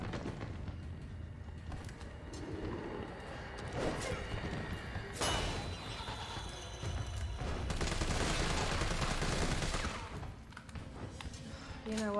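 Gunfire in the Resident Evil video game, bursts of shots and thuds over a dense, continuous game soundscape, with a louder rapid volley toward the end and a voice speaking now and then.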